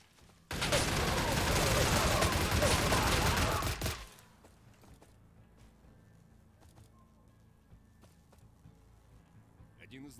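An RPD machine gun in the video game StalCraft fires one sustained, dense burst lasting about three and a half seconds, then cuts to quiet background with faint clicks.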